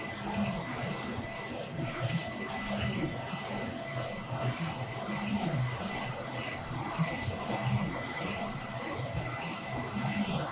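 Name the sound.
Focus Alpha Max 6250 printer printing varnish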